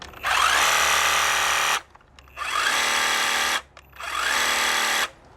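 Greenworks 82V cordless hedge trimmer with a 24-inch double-sided bar runs in three bursts of high, buzzing whine, each about one and a half seconds long with short pauses between, loud and close.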